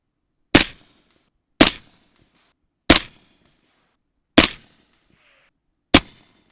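A 300 Blackout rifle fires 240-grain Sierra MatchKing subsonic rounds: five sharp, close reports spaced about a second apart, each followed by a short decay and then near silence.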